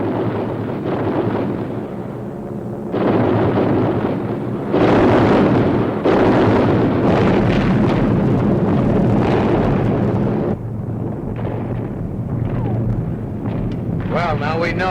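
Flak anti-aircraft gunfire bursts over Mühlendorf in a war film: loud, continuous rumbling blasts with sharper pops, wind-like roar and voices mixed in throughout.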